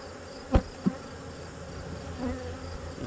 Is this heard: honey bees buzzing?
yes